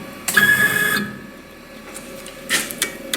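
A CNC machine's Z axis driven one inch in the negative direction during calibration, giving a short whirring motor burst followed by a quieter pause and a few brief mechanical clicks and whines.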